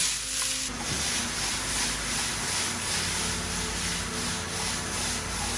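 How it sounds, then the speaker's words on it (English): Sliced onions sizzling and caramelizing in a pan, a steady close hiss of frying with faint scraping, alone without talk. "You start to hear that sizzle"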